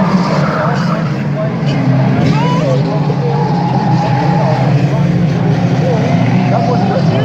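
Junior banger racing cars roar around Aldershot Raceway in the closing stages, a loud continuous engine drone with squealing tires and skids layered over it, under a commentator's voice.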